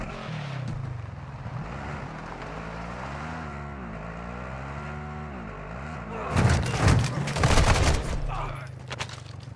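Near the end, a short burst of rapid gunfire from the Call of Duty DMZ game breaks in, loud and clustered, following a stretch of low droning game ambience with speech.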